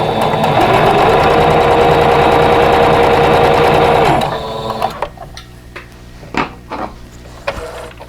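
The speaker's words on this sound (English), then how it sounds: "I'm going to sew on the last piece, and then I'll press and sew the rows together." A sewing machine stitches quilt block pieces in a fast, loud, steady mechanical whir for about four seconds, then stops, followed by a few soft clicks and fabric handling noises.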